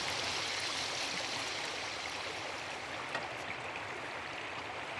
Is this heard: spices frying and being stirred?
no